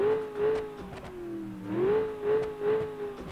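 A V8 car engine in the BeamNG Drive driving game revs repeatedly, rising and falling in a wavering pattern. The engine note is moderately loud and close, with no talking.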